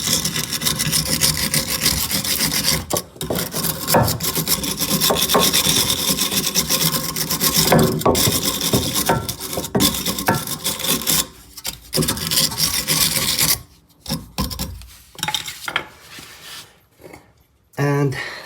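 Steady, harsh scrubbing of a brush rubbing inside a metal rear sway bar link mount on a 1996 Honda Accord 2.0 petrol, continuous and close, with brief pauses and knocks toward the end.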